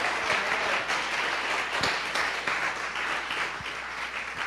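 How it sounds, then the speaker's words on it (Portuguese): Sustained applause from a church congregation at a Christmas service, dense and steady clapping filling the room at an even level throughout. "Dê uma salva de palmas ao Senhor."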